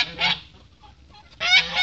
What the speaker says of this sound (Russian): Гуси пришли.